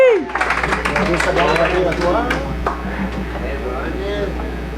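Audience applauding for a singer at a country music show, a dense burst of clapping that starts at once and carries through under a host's voice talking over it.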